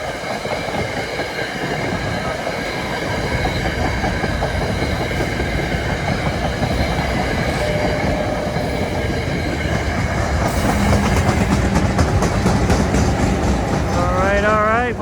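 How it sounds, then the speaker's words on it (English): A train rolls past close by, a loud steady rumble with rhythmic clickety-clack of wheels and a brief squeal near the end. "let's check out this train with the Santa right there"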